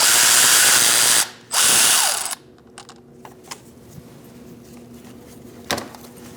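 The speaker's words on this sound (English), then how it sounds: "And now we're going to take this bolt out with a 15mm." On a 2016-2019 Chevrolet Cruze 1.4L, a ratchet wrench removes a starter bolt with a 15mm socket. A loud, rapid ratcheting burst lasts about two seconds, followed by quieter scattered clicks and metallic taps.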